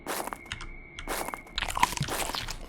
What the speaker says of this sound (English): now we get a nice little noise when the zombie gets to the player